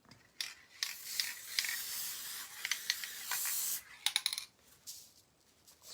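An aerosol spray can hisses onto a craft plate in several short bursts and one longer blast, close and fairly loud, separated by brief pauses and a few light clicks from the nozzle.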